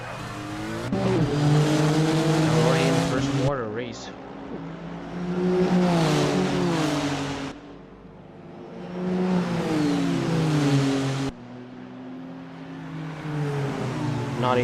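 GT3 race cars lap Sepang in a video game race, with engines revving up and down in long rising and falling sweeps, loud and near, alongside bursts of tire squeal.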